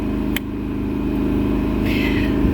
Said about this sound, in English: We've got the generator running behind us, so excuse the noise.